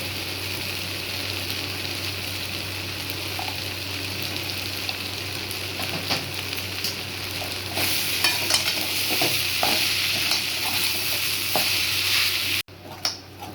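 Onions frying in plenty of oil in a pan for idli upma, a continuous close sizzle with scraping stirs that grows louder partway through.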